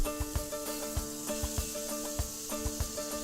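Onions sizzle in a hot pan with a steady broad hiss, joined by a rhythmic series of soft clicks and taps under a faint tonal hum.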